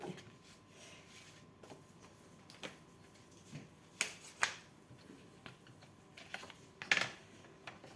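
Paper being cut for an autumn pop-up card, with quiet sharp snips and crisp clicks spaced irregularly over a faint background, no talking.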